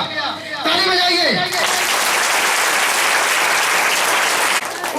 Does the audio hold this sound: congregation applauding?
yes